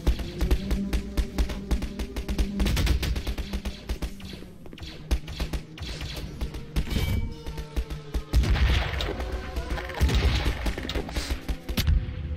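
Rapid gunfire in a Garry's Mod Star Wars roleplay video game, dense bursts of sharp shots crackling almost nonstop with heavier booms mixed in, loud and busy.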